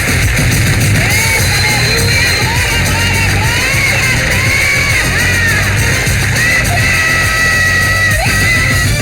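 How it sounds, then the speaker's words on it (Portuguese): A woman screams and yells loudly and continuously, with raw, strained wavering cries over a noisy background. "Pronto, ela já gritou."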